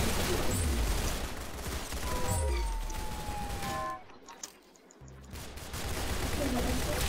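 Gunfire in the Roblox Arsenal shooter rattles out in quick, loud bursts, falls into a short lull partway through, then resumes.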